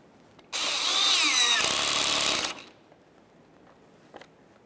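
A power tool drives a 10mm-headed bolt into a 1994-1997 Honda Accord front bumper cover, giving one loud whirring, ratcheting burst of about two seconds up close, then stopping, followed by faint clicks.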